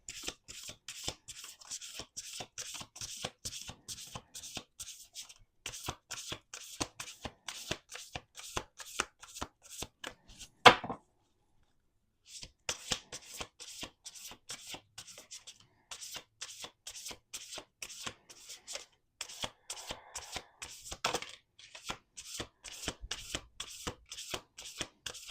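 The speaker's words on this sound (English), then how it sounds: "We're going to do 2 more shuffles." Close, quiet shuffling of a deck of tarot cards, repeated rapid riffles and flicks in steady bursts with one brief silent pause midway, no talk over it.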